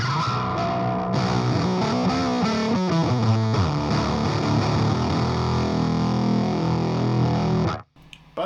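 An overdriven electric guitar plays thick, gritty chords and riffs through a modded Coven Origin 50 tube amp, loud and sustained before cutting off near the end.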